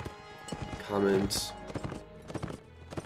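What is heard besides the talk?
horse hooves clip-clopping in Mount and Blade video game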